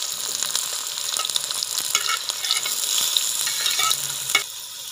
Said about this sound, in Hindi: आप घी के अंदर प्याज डालें